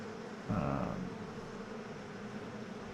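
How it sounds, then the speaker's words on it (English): Bees in the video game Pax Dei give off a continuous low insect buzz, steady and moderately close, with no talk. "Despite having the bee sounds."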